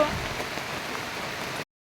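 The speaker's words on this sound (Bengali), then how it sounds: "খুব জোরে বৃষ্টি, খুব।" Heavy rain pours down in a dense, even hiss that stops abruptly after less than two seconds.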